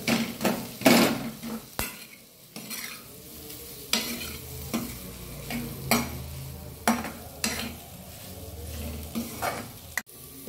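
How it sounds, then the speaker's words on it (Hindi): A spiced tomato stuffing seasoned with salt is stirred in a pan over gentle heat, giving repeated close scrapes and clinks of a spoon against metal over a soft, continuous sizzle, with no voices. "इसको हम मिक्स करेंगे। इसको ज्यादा फ्राई नहीं करना है"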